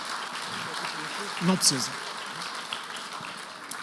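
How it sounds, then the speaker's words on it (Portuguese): Audience applause for children helping on stage at a performance, heard as a steady wash of clapping under loud, close talking from adults and children. "Uma salva de palmas para os meus assistentes."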